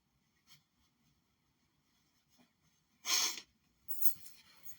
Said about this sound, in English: I hate blowing my nose with a passion.